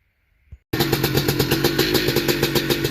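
A 1983 Yamaha IT490 big-bore enduro motorcycle's two-stroke engine catches abruptly after a brief thump of the kick start, then runs loud and close with a rapid, slightly uneven, throbbing idle.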